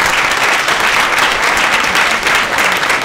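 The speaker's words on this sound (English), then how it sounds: "Please give a round of applause." Loud, steady applause from a conference audience fills the room after a technology panel discussion, dense and continuous throughout without any talking.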